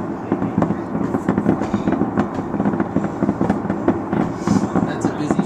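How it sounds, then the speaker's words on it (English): Fireworks and firecrackers going off in the middle of a busy main city street in the morning, a dense, continuous barrage of sharp cracks and pops with rumbling echoes between buildings, heard from some distance above the street. "they're just putting off the fireworks just in the middle of the street"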